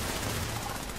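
Rapid bursts of gunfire in a video game, dense and continuous for about a second, loud and close.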